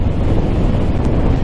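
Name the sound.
wind on a motorcycle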